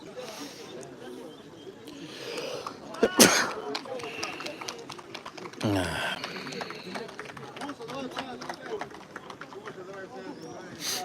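A single sharp sneeze bursts out at a youth football cup final, loud and close, amid background chatter and running commentary voices.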